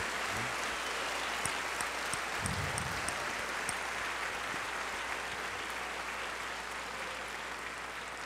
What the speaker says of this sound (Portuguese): Senhor Jesus, louvamos o teu nome até com palmas